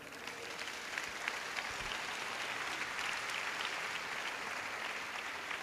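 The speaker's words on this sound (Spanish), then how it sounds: "Den un aplauso al Señor." A church congregation applauds at an evangelical service, a steady wash of many hands clapping at moderate distance, continuous throughout without speech.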